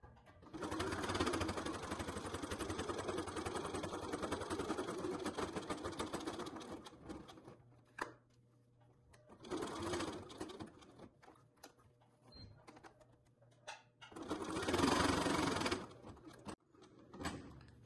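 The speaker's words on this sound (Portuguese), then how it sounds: "Vou começar com um pequenininho retrocesso pra arrematar minha costura e vou devagarinho fazer toda a volta." A domestic sewing machine stitches waterproof twill fabric for a scissor holder, running in three steady whirring bursts with quiet pauses between them, close by and with no talking.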